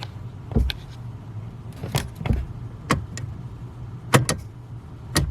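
A truck's transmission gear shifter being moved between park, neutral, drive and lower gears gives sharp, distinct clicks and clunks, about half a dozen spaced irregularly over a quiet idle hum, close up with no talking.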